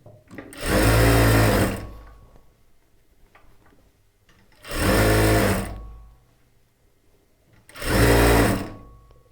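A sewing machine stitches the lining of a churidar top in three short, loud bursts of rapid whirring, each about a second long, with quiet pauses between them.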